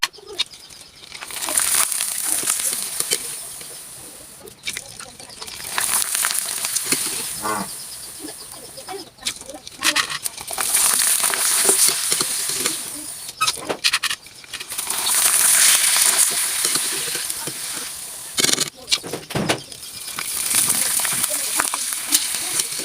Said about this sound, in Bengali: এখন আমি চিপস গুলা ভেজে নিচ্ছি।